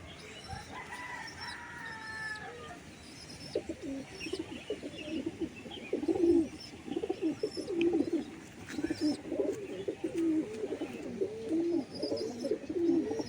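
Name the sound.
pigeons cooing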